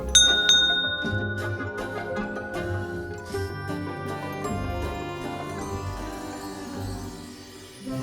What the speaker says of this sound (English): As she opens the door, as the door opens, you hear the bell of the door ring.